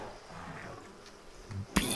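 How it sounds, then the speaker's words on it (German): Bees buzzing in Lord of the Rings Online, a low steady insect drone running under faint game ambience, ending in a sharp bright burst. "Bienen."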